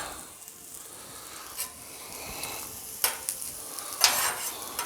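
Shrimp fried rice stir-frying on a Blackstone griddle, a steady soft sizzle with occasional louder scrapes and bursts of hissing, no talking.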